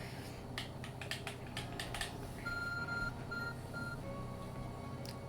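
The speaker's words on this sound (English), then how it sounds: "Your ARC phone is beeping." Short electronic beeps from the ARC phone in Pokemon Legends Arceus, a few clear tonal blips repeating over steady game background music and ambience, with no talking.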